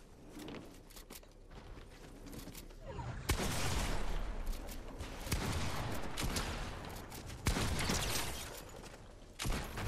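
Rapid gunfire from the video game Fortnite, with dense bursts of automatic shots and repeated volleys spread across the whole stretch, loud and continuous, with sharper blasts breaking through the clatter.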